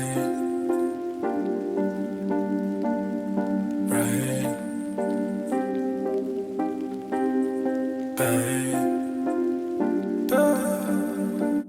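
A vocal ad-lib track made in FL Studio, treated with flanger and ambience effects, plays as sustained tonal phrases. Bursts of bright, hissy texture break in at regular intervals, and the whole passage is steady and moderately loud.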